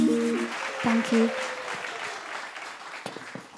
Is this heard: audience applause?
yes